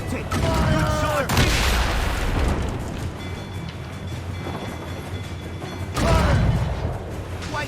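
Booming cannon volleys from sailing warships in Assassin's Creed Rogue, with two heavy blasts several seconds apart over creaking timber, sea noise and shouted voices.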